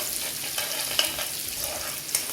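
Four finely chopped garlic cloves fry in oil with cumin, making a brief, steady hiss of sizzling with a few small pops, close and continuous, without speech.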